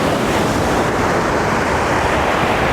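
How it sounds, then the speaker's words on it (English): Loud, constant wind buffeting the microphone over crashing surf on a Florida beach near Palm Beach, a continuous roaring rush with no letup. "I know it's windy. It's really, really windy."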